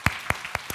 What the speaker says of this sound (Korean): 박수 칠까요? 박수.